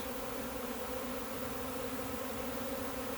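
A honeybee swarm buzzes steadily and densely as the bees settle onto a bucket held low above the ground, a continuous close, even drone with no break in level.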